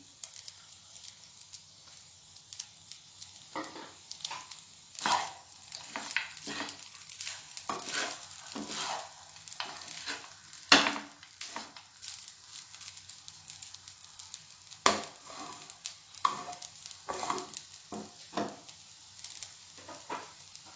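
Fried peanuts being mixed into Karnataka-style lemon rice, a series of uneven scraping and rustling strokes of a spoon through the rice in a pan, fairly quiet and close, with no voices.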